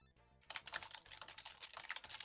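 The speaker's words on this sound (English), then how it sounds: "I can hear you typing very noisily." Rapid, noisy typing on a computer keyboard, with dense clattering keystrokes in an irregular rhythm that start abruptly after a brief quiet moment and continue close and steady.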